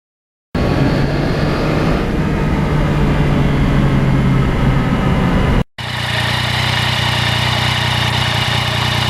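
Engine and exhaust of a 2020 Yamaha MT-09 under way on a cold mountain ride, a steady close drone with a brief cut partway through, then resuming at a similar level.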